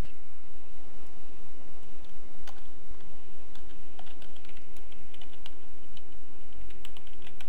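Quick, light key clicks on a computer keyboard as a web address is typed, irregular taps in short runs over a steady low hum, close and fairly clear.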